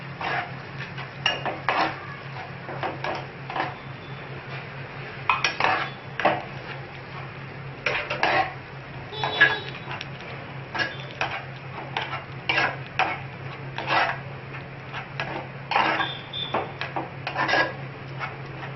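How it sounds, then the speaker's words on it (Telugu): Cooked moong dal being stirred into softened tomato pieces in a pot, with repeated scraping and clinking of a utensil against the metal and a steady low hum underneath, no talking. "ఇప్పుడు దీంట్లో ఉడికించి పెట్టుకున్న పెసరపప్పు వేసుకుందాం. వేసుకొని దీన్ని బాగా కలుపుకుందాం."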